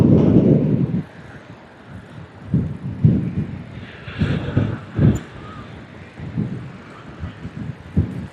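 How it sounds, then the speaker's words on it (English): Strong wind buffets a microphone on an exposed Kent coast cycling route, with gusty low rumbling bursts that rise and fall over several seconds, loud and close. "It's so windy here"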